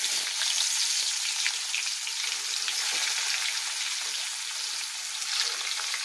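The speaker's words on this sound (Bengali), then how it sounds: "কড়াতে তেলও দিয়েছি, তেলটাও গরম হয়ে গেছে। ফার্স্টে আমি পেঁয়াজ আর রসুনটা দেবো।" Onion and garlic sizzle steadily in hot oil in a wok, a dense, even crackle close by that runs throughout with no voices.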